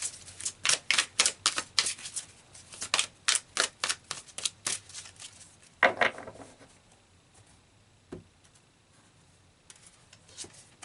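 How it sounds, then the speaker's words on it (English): Tarot cards being shuffled, giving a rapid series of crisp clacks and flutters, followed by a single card being drawn and then near quiet, close and fairly soft. "let's Pull one final card here"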